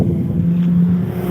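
An Infiniti car fitted with loud aftermarket exhaust pipes rumbles close by, a brief, heavy, low engine drone with slight wind buffeting and no talk.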